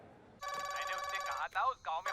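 An indoor telephone rings in a house, a bright electronic tone starting abruptly and repeating in short bursts, fairly quiet, with a voice breaking in near the end.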